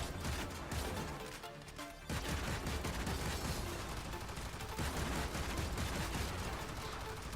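Secondary weapon firing a steady barrage of projectiles in the video game Shrine of the Eidolon, a loud, dense run of rapid shots that barely lets up, with a brief dip before the fire resumes.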